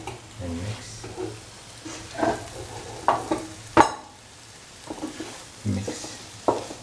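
Paneer pieces stirred into a frying cashew stew mixture, a spoon scraping and knocking the pan in irregular strokes over a low sizzle and steady hum, close and fairly loud.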